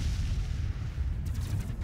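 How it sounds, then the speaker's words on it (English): Space battle explosion in the strategy game Master of Orion: Conquer the Stars, a low rumbling boom with a sustained heavy tail and a few sharp crackling bursts toward the end. "That seemed like a more effective explosion than I've seen in the past."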